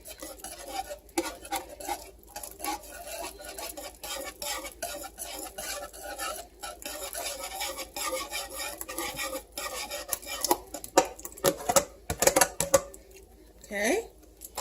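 A whisk beats eggs into a macaroni and cheese sauce in a home kitchen pan. The close, steady, rapid clicking and scraping against the pan continues throughout.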